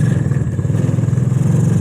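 A small MotoGP mini jeep engine pulls after a gear shift, a close, loud, pulsing mid-pitched putter with a rapid steady rhythm and slight clatter as it drives along.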